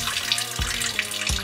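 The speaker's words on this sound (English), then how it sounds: "There's actually water coming out the tap." Water runs steadily from a kitchen tap aboard a narrowboat houseboat, a continuous close splashing stream with a few small gurgles and no voices.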